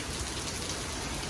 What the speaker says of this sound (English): It's raining sideways.